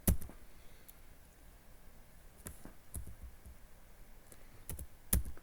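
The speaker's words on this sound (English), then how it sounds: "so I am typing again" Keys tapped on a computer keyboard in a quiet room, a few sharp clicks scattered irregularly with pauses between, the loudest strokes at the start and near the end.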